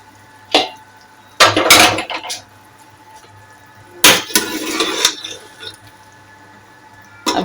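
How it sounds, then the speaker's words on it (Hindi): A pressure cooker holding mutton is opened, giving a few close metallic clanks and wet, sloshing bursts of handling separated by quiet gaps, with no talking. "अब हम कुकर को खोल लेंगे, देखते हैं गोश्त की क्या सूरत हाल है।"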